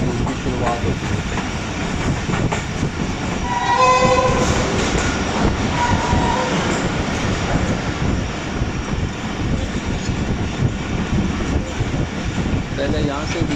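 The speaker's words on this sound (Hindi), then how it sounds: "शालीमार एक्सप्रेस पास होगी टंडू आदम रेलवे स्टेशन से" The Shalimar Express passing Tando Adam railway station in Pakistan: a steady close rumble and clatter of rolling carriages with a brief horn blast early on, and someone talking over it.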